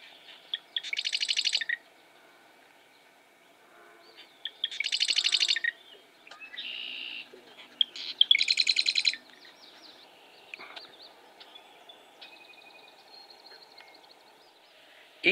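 Hidden birds in a marsh giving several buzzy, rattling calls and higher chirps, some close and loud, others fainter, spaced across a quiet background with no talking.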